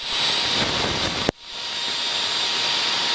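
A light aircraft engine drones steadily in flight, loud and continuous, with a brief sharp dip partway through before the steady roar resumes.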